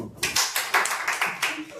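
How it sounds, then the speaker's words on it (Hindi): Hands clapping in a classroom, about seven sharp claps in a steady rhythm, close and moderately loud, with speech mixed in. "अरे भाई ताली बजा दे इसकी"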